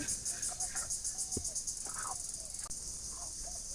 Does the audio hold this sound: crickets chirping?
yes